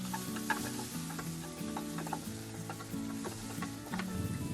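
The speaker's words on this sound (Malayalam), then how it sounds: "ഒരു മീഡിയം സൈസ് ടൊമാറ്റോ ചോപ്പ് ചെയ്ത് ചേർത്ത് 1 മിനിറ്റ് നേരം ഇളക്കുക." Chopped tomato with chili powder being stirred in a hot pan for a Kerala-style prawn roast, a gentle continuous sizzle with light scraping, quiet and close, alone without any voices.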